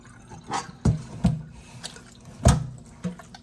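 Homemade butter is rinsed and massaged under cold water in a kitchen sink, giving several sharp splashes and sloshes at irregular intervals over a faint running-water background.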